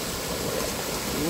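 Water flows steadily with a constant rushing wash, fairly close, with faint hints of a voice underneath.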